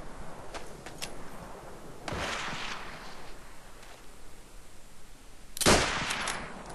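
Springfield rifle shots in Call of Duty, two sharp cracks a few seconds apart over a quiet game background with faint clicks and mechanical sounds.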